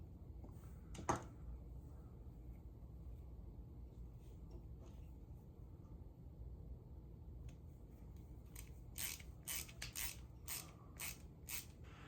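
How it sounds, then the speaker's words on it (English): Small screws are driven into the metal parts of a Fanhome 1966 Batmobile scale model, a faint ratcheting creak with a sharp click near the start and a cluster of short, crisp mechanical ticks toward the end, no talking. "Put a little oil on it since it's screws going in the metal."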